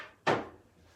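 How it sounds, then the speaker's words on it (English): A wooden drawer on a jewelry armoire at an estate sale slides and knocks shut once, a sharp close thump with a short rustling decay, then quiet. "drawers open and close as though they should"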